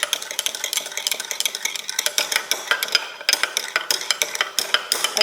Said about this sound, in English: And I'm going to start stirring it until it becomes a homogeneous mixture.